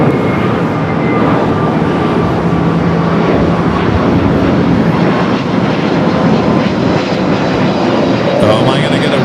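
Loud, steady jet roar from a Boeing 777 airliner at Los Angeles International Airport, the dense broadband rumble continuous and close throughout, with faint tonal whines threaded through it.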